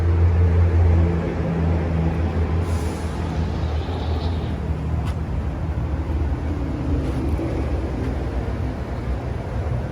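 Diesel engine of a 2018 Isuzu FRR210 six-wheel truck idling, a steady low rumble with broadband mechanical noise held at even loudness throughout, with no one speaking.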